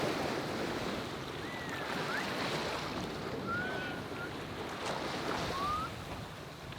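Rushing ocean waves and gusting wind around a remote uninhabited island, a broad roar of surf that swells and eases, with faint bird cries cutting through now and then.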